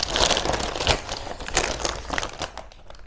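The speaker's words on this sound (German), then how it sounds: "Ich öffne diese Tüte." A paper fast-food bag, a Grinch Happy Meal bag, crinkles and rustles up close as it is opened, with busy crackling handling noises throughout.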